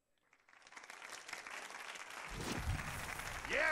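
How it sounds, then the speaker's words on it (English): A crowd at a comedy show claps, building from near silence into sustained, swelling applause with scattered whoops, growing louder and more dense toward the end. "Keep clapping! Keep clapping! Keep clapping!"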